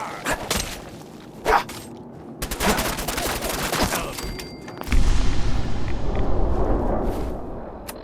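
Rapid bursts of video game gunfire crackle and boom in clustered volleys from a Fallout-style wasteland raider fight, loud and close, with a heavier sustained roar of shots in the second half and no voices.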